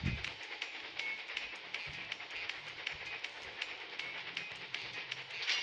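A toy Thomas train runs along its track with a quick, steady clickety-clack of small wheels over joints, faint and continuous with no voices.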